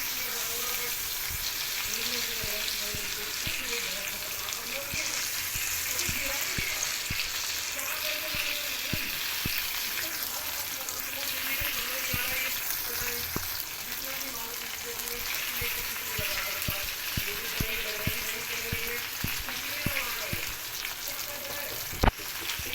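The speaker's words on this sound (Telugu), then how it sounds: "కొంచెం కరివేపాకు వీటిని వేసి ఫ్రై చేసుకోవాలి" Curry leaves fry in hot oil in a pan, a loud continuous sizzle with dense crackling and popping that holds steady for the whole stretch.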